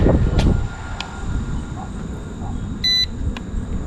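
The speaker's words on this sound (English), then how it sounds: "Okay, I heard a beep." A drone gives a brief electronic beep as obstacle avoidance is switched on, sharp, evenly spaced tones sounding once over steady outdoor wind and background rumble.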